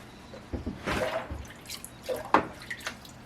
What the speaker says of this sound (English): give it a rinse. That's the rinse for the zinc.